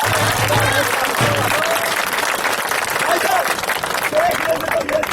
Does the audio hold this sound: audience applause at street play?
yes